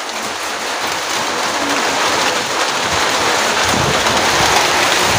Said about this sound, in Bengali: এখন বৃষ্টি হতেছে অনেক জোরে জোরে